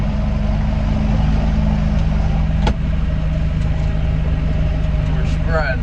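A farm tractor's engine runs at a steady, loud idle with a strong low hum while a manure spreader is being started; a brief knock sounds partway through and faint squeaks come near the end.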